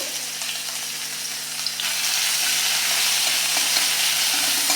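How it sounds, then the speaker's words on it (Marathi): Crushed ginger, garlic and green chili paste dropped into hot oil for Shegaon kachori filling, a loud, dense, continuous sizzle that swells stronger partway through, close up with no voices. "यामध्ये हा जो आपण आलं लसूण हिरवी मिरचीचं जे वाटण करून घेतलं होतं खलबत्त्यात ठेचून हे वाटण घालायचं"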